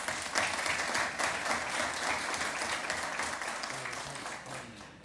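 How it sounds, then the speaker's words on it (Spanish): Audience applause for General Giovanni Ponce at a formal book launch event, a steady dense burst of clapping from a sizable crowd lasting several seconds and tapering slightly at the end. "un aplauso para él,"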